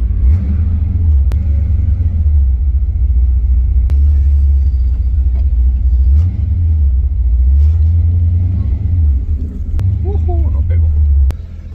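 Ford Mustang Fox Body with a 347 engine driving, a low steady rumbling drone with slight swells in engine pitch, close and loud throughout, with a few faint clicks.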